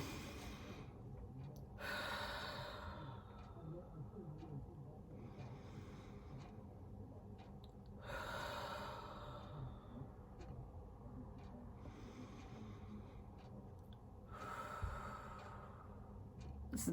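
Slow, deep breaths, each a soft, breathy inhale or exhale spaced several seconds apart, quiet and close over a low steady background hum.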